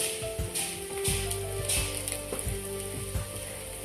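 Cabbage and egg fry with salt and pepper sizzles steadily in a pan, a loud continuous crackle with periodic scraping knocks from stirring, up close and with no talk.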